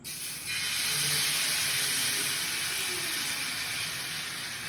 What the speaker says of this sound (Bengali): আলু ময়দার যে গোলাটা আছে, মিক্সচারটা, সেটা আবার তাওয়ার মধ্যে দিয়ে দেবো।